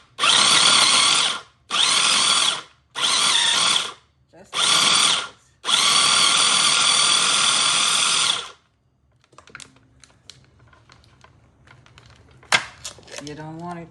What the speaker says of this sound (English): you want it to just grind up, not mushy, just enough to go in your meatballs